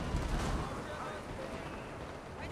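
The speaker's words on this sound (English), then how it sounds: "And we also have some artillery guns. I'm going to let them open fire." Artillery guns firing in the Men of War: Assault Squad 2 strategy game during a base attack, a dense low rumble of distant booms blended into continuous battle noise, moderately quiet and steady throughout.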